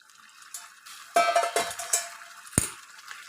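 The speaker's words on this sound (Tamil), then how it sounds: "ஒரு டம்ளர் தண்ணியும் இப்போ இதில் ஊற்றிக்கிறேன்" Water splashes and pours into a pot of samba wheat halwa in a few quick bursts, with light metallic clinks and a sharp knock near the end.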